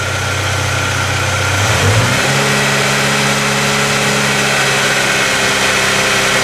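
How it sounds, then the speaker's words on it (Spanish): Cold 2005 Ford Fiesta engine idling steadily, then revving up near the two-second mark and holding a higher, even drone for the rest of the clip, close and loud with no talking. "Voy a acelerar a 2000 revoluciones."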